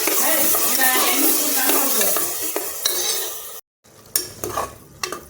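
Ground masala sizzles and bubbles steadily in a pan, with a few stirring scrapes, then a brief silence followed by quieter spitting and clinks.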